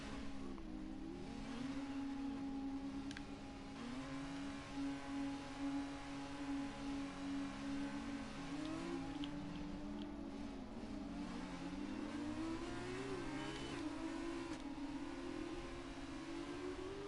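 Formula 2 race cars in a racing video game rolling down the pit lane, a steady whining engine drone with gentle pitch rises and falls as the cars move off, moderately quiet and continuous with no talking.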